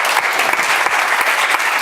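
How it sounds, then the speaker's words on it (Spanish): Loud, dense applause from a conference audience greeting a plenary speaker, sustained clapping with a few sharper claps standing out, no speech. "recibamos con un fortísimo aplauso a Guijo"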